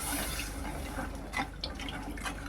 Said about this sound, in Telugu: ఇలా ఒక గ్లాస్ వాటర్ వేసుకొని